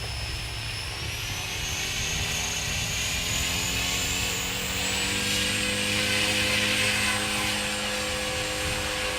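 Walkera V500D01 flybarless 3D RC helicopter flying on a 40C battery pack in normal mode with high head speed, a steady loud rotor and motor whine with a rising pitch, continuous throughout with no talking.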